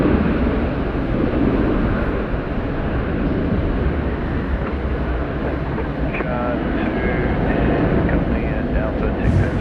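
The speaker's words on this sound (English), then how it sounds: "nicely done there by the Qantas A330-200" A Qantas Airbus A330-200 arriving from Perth at Sydney Airport gives off a broad, steady jet roar from a moderate distance, with a voice talking over it.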